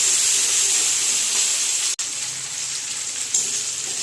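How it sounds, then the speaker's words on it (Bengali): Prawns fry lightly in a pan for a Bengali calabash and prawn dish, giving a steady, close, bright sizzle with a brief sharp click near the midpoint and no voices. "ওর জন্য আমি হালকা করে ভেজে নেব।"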